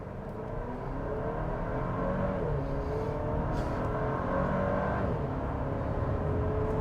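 A 2024 Chevrolet Traverse in sport mode, engine and road noise heard from inside as a steady close hum that swells as it accelerates, with no talking.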